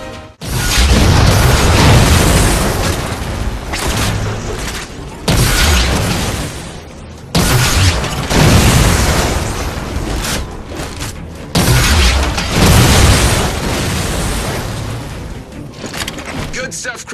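Anti-aircraft guns in Halo 4 are shot until they break, setting off heavy booming blasts in several loud bursts with short gaps between them, while voices talk over the noise.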